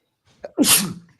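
A single close sneeze, a short sharp inhale followed by a loud breathy burst, heard on its own in a quiet room.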